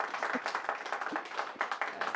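Audience applause at a Hindi poetry recital, a scattered patter of hand claps held at a steady moderate level for the whole stretch, with no voices over it.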